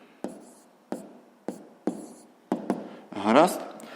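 A pen writes a math solution by hand, five sharp regular taps or strokes spaced about half a second apart, then a short scratchy scribble, close and fairly quiet with no talk.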